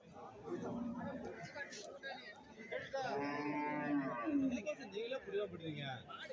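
Cattle at a buffalo and cattle livestock market in Tamil Nadu, with repeated low moos rising over steady crowd chatter and people talking nearby throughout.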